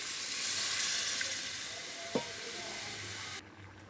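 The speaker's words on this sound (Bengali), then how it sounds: "এখন আমি জল দিয়ে দিচ্ছি।" Steady sizzle and hiss from spices frying in a fish curry pan as water is poured in, with a brief clatter midway before the sizzling cuts off near the end.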